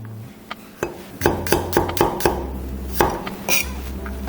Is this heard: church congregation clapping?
no